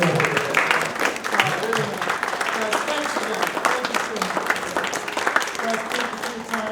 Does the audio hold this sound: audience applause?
yes